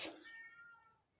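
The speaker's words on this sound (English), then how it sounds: "That's a cat." A cat gives one short, faint meow in a back garden, a single tonal cry that fades quickly, heard alone without talk.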